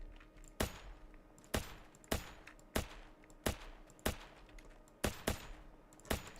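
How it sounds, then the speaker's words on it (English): Video game pistol that fires two bullets at once, shot after shot in an irregular run of about eleven sharp, punchy reports, each with a short decay, heard alone and fairly quiet. "this is a pistol that shoots 2 bullets and has a flare launcher"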